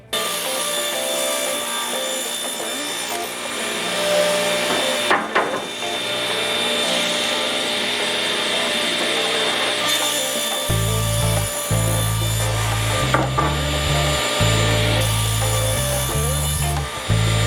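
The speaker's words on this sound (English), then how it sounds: "I'm cutting the overall length of my crate out to 13 1/4 inch" A long board crosscut on a table saw with a crosscut sled while building a simple record crate: a loud continuous motor whine with the blade cutting through wood, the drone shifting lower partway through, no talking.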